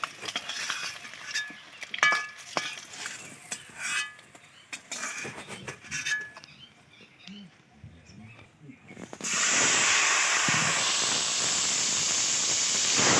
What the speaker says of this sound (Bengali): দেখো কি সুন্দরভাবে ভেজে নিলাম ডিমগুলো। এবার একটা একটা করে তুলে নিচ্ছি।